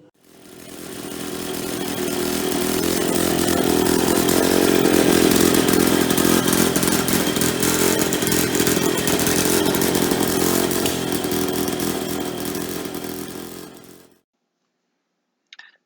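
A Victa 18 Toecutter lawn mower engine fires up and runs loud and steady with a raspy two-stroke buzz for about fourteen seconds, then cuts out abruptly.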